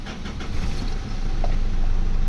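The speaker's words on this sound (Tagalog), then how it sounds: "Engine start." Mitsubishi Strada pickup engine cranking and turning over, a dense low rumble that builds and settles into a steady idle, close and alone with no talk.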